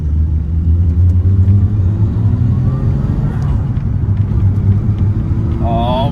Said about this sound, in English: It feels so good to just be able to rev this thing out